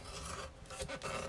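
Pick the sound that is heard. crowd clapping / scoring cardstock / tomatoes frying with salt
scoring cardstock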